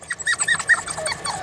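Dogs at an animal control shelter bark, yip and whine in short excited bursts, close and fairly loud, overlapping one another with no speech.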